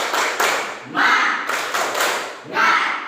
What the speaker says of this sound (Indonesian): kita lakukan tepuk semangat dulu bersama-sama ya